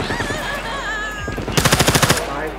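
Rapid automatic gunfire from the survival game SCUM, a tight burst of about ten evenly spaced shots at close range, following a stretch of game noise and muffled chatter.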